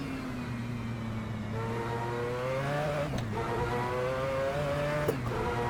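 A Mazda 787B rotary-engined race car from a racing video game screams along at speed, its high, buzzing engine note rising in pitch through the gears with brief dips at shifts, loud and steady, with no talking.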